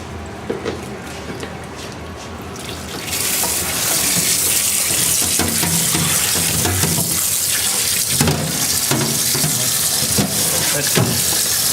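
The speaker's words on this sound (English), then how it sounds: "See that wash? Just give it a quick rinse off." Tap water runs steadily into a cooking pot being rinsed in a kitchen sink, a loud continuous splashing rush that starts after a brief quieter moment and carries on alone to the end.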